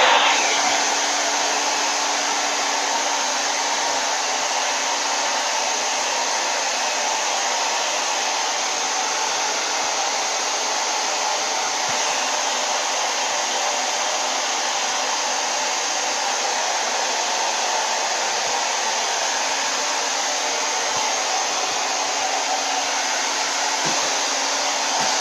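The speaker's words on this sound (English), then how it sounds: "I'm going to use my hair dryer to dry this a little bit just for the sake of the video" A hair dryer blows steadily and loudly at close range for about 25 seconds, drying a freshly applied finish on a piece of furniture being prepped, with no talking over the constant whooshing roar.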